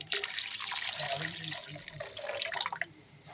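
Water pours from a tap or jug into half a litre of milk in a cooking pot, a steady close splashing rush that runs for about three seconds and eases slightly near the end.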